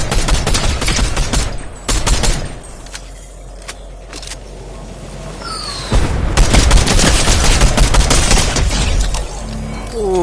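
Fortnite gunfire crackles in dense, loud volleys that nearly fill the stretch, briefly thinning out in the middle before another sustained barrage with clattering impacts.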